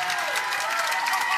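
Crowd at a professional pickleball tournament match in Grand Rapids cheering and applauding, a brief, bright wash of clapping and shouts with no clear words.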